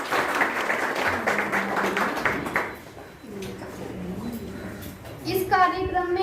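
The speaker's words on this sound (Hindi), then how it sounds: "माननीय सरपंच साहब मुख्य अतिथि के रूप में तालियां बजाकर स्वागत" Applause greets the village sarpanch as chief guest at a school Independence Day celebration, a short burst of outdoor clapping early on that gives way to a loudspeaker voice, with tonal pops and feedback near the end.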